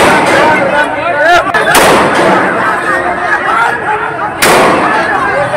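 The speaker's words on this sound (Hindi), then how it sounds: "बवालियों को संभालने के लिए पुलिस ने हवाई फायरिंग कर दी।" Police fire shots into the air to control a crowd in Bihar, with several sharp cracks ringing out over loud, chaotic crowd noise and shouting.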